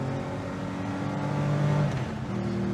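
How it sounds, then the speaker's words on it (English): A car engine roars as it accelerates, its tone rising in pitch over a few seconds, heard close from inside the cabin with a steady underlying rumble. "I feel the engine roaring."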